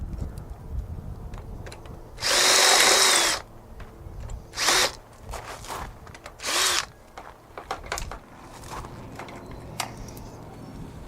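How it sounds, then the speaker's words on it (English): A power drill bores out old rivets on an RV awning, with one long high whine followed by several shorter bursts, loud and close, and small clicks and handling noises between them. "I'll find the right size rivet and drill bit, and I'll drill those old ones out."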